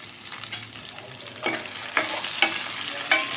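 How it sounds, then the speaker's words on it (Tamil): Onions sautéing with salt in a pan for a South Indian tamarind kuzhambu, a soft continuous sizzle broken by several sharp scraping strokes of a spoon stirring, close and clear with no talk. "வெங்காயம் போட்டு நல்லா வதக்குவோம்."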